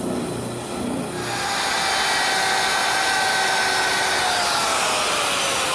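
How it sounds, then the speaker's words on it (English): Bandsaw cutting a decorative curve in a wooden crest rail in a woodworking shop, a loud continuous whine and hiss that swells after the first second and holds steady, close and alone. "I'll cut it at my bandsaw"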